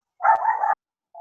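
A dog gives one sharp, close bark lasting about half a second in an otherwise silent room, and the start of a second bark follows right at the end.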